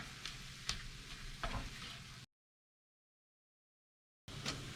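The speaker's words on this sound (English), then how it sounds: "the meat's starting to brown, starting to cook" Ground venison frying in a pan, coated with Italian seasoning, gives a steady, faint sizzle with small crackles and ticks; the sound cuts out to silence midway and briefly returns.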